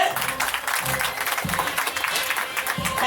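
Audience applause at a Rotary event in Coimbatore, a steady spell of clapping from a gathered crowd, moderately loud, with a few low thumps underneath.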